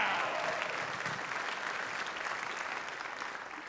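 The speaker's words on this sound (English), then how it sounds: "Clap for me even if you didn't know about that." An audience at a live comedy or speaking show claps in a steady, moderately distant round of applause that slowly tapers, with no talking over it.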